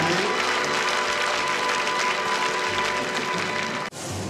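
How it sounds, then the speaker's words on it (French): A TV studio audience breaks into sustained, dense applause that stays steady and fairly loud, then is abruptly cut off and resumes faintly. "Allez, on applaudit."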